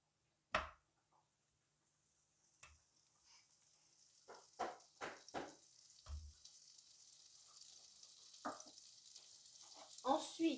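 Butter for duck breast heats in a pan; a soft, faint sizzle slowly builds, broken by a few sharp clinks and knocks of utensils.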